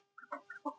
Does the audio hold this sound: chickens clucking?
yes